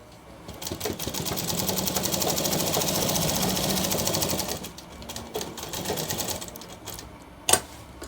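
Close and moderately loud, a sewing machine runs a rapid burst of stitches through shirt fabric for about four seconds. Shorter bursts and handling noises follow, ending with a sharp click.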